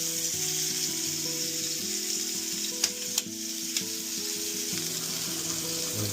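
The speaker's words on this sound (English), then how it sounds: "And I'll just cook 2 burgers like so." Two burgers sizzle steadily in a drop of olive oil in a pan, a continuous close frying hiss with a few faint clicks and taps partway through.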